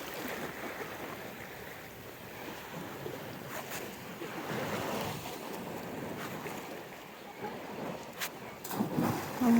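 Gentle Black Sea waves in Odesa wash and lap continuously at a moderate distance on a sunny beach, with a light breeze brushing the microphone.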